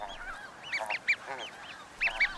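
Snow geese at a busy Arctic breeding colony in high summer, a dense chorus of overlapping honks and nasal calls, with several louder nearby honks standing out above the constant clamor.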